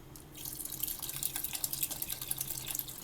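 Half a litre of water poured into milk in a pot while making palada payasam, a continuous close splashing pour lasting a few seconds.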